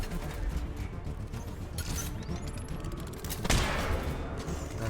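Shots ring out in a Mass Effect 3 battle involving snipers, with sharp cracks and impacts scattered across a busy, noisy combat scene, including one louder burst partway through.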